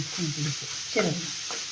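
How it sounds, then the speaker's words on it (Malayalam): Masala paste frying in oil for a drumstick curry is stirred in a pan, giving a steady sizzle with a few scraping strokes of the spoon. "ഇളക്കി കൊടുക്കണം അല്ലേ അരപ്പേ എണ്ണയും എല്ലാം ഒന്ന് പിടിക്കാൻ വേണ്ടിയാണ്"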